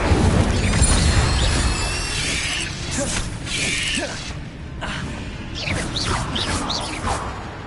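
A fiery Incendio spell in Hogwarts Legacy flares up with crackling whooshes and rattling mechanical bursts, several rising swishes in succession, loud and near, with no talking over it.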